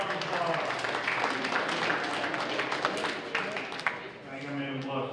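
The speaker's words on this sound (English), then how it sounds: "Give them a round of applause." A banquet crowd at a high school football banquet gives a steady round of applause, a dense patter of many hands clapping at once, with voices mixed in.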